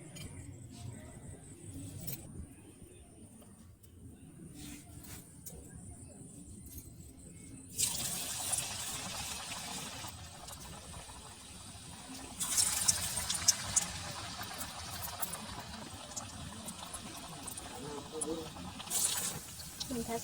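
Cabbage fries in hot oil for cabbage manchurian on a stove. The sizzle is quiet at first, then turns into a louder crackling hiss that swells in bursts while a voice speaks over it.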